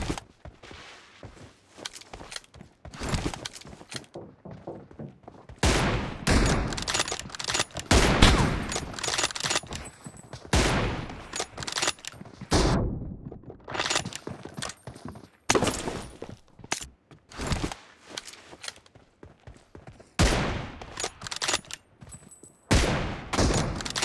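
Gunfire in the PUBG Mobile video game, with bursts of rapid automatic shots and single cracks in loud clusters separated by short quieter gaps, plus faint footsteps and gear rattles between volleys.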